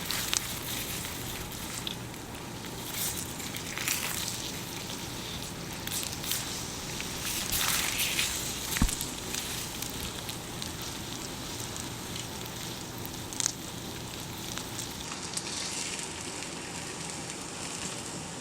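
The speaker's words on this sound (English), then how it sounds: "And then I fry up my eggs" Eggs fry in a pan for chilaquiles, giving a dense, continuous hiss and crackle of sizzling oil with a few small clinks and no talking.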